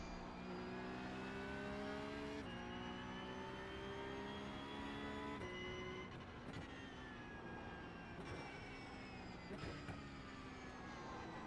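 A Porsche 911 Cup (992.2) engine is heard in a racing video game at Imola, revving high and rising through several quick upshifts, with sharp drops in pitch between gears.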